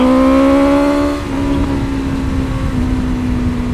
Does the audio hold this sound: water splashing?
no